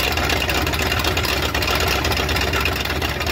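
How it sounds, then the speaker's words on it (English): A 1967 Corvette engine idling close by, a steady loud rumbling drone with slight unevenness throughout, no talk over it. "I don't know if it had really that much of a choppy idle"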